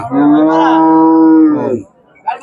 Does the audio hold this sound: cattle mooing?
yes